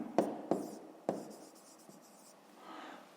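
A pen writing down an answer on paper, heard as three quick taps followed by a soft scratchy stroke, close and quiet, with no talking.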